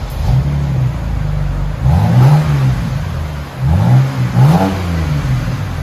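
A BMW 328i 3.0L inline-six with its muffler and resonator removed revs loudly up close in a few rising and falling bursts over a steady idle.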